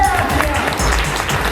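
Loud, short burst of crowd applause at an RCM business seminar in Balrampur, with dense clapping filling about a second and a half at close range.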